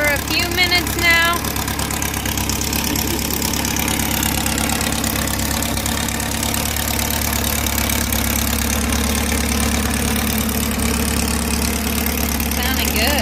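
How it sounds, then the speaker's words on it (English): A small classic Volkswagen engine idles steadily after warming up for a few minutes, its low, even rumble and faint knocking continuing throughout, close by and fairly loud. "she's been warming up, idling for a few minutes now."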